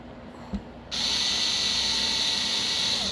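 A small powered screwdriver drives screws into a Tekno RC ET48 2.0 buggy differential, a steady close whirring buzz that starts abruptly after a faint click and runs on evenly with no talk.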